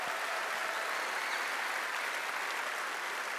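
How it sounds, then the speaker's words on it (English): Audience at a PAX West panel celebrating The Witcher's tenth anniversary clapping in a sustained, dense wash of applause that holds steady throughout, no voices standing out. "So give yourself a massive round of applause."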